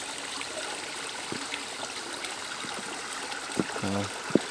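Creek water flowing steadily as a broad, even rush close by, with a few brief knocks and thumps near the end.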